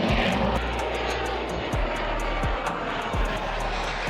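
An X-47B stealth drone landing: a steady roaring engine with a rhythmic pulsing beat, moderately loud and continuous throughout, with no speech.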